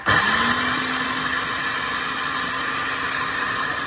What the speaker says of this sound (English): We've transferred the tadka into the food processor, and we're going to give it a blast.